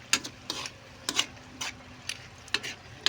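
Food cooking in a pot is stirred with a utensil, giving a few sharp scraping clinks at irregular intervals over a faint simmer, close and fairly quiet.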